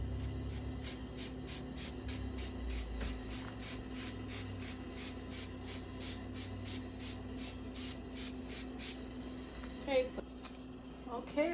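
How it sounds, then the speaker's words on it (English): Oven cleaner is sprayed onto an oven door in a rapid run of short, evenly spaced hissing spritzes, close and crisp, with some rubbing sounds afterward. "I'm gonna spray the oven door also."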